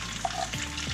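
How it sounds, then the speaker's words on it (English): Garlic and onion fry in a pan, a brief, close, steady sizzle with a faint stirring scrape. "And then we'll start frying our garlic and then onion."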